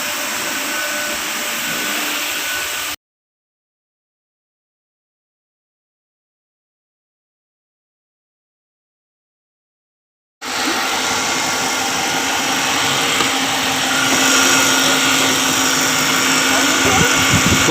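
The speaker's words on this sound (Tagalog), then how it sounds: "Whining noise from engine front." Engine whine from the front of a running car engine, a steady high-pitched drone over broadband mechanical noise, close and loud, cut off by a long silent gap before resuming.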